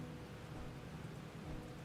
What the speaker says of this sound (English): Rain's getting pretty intense.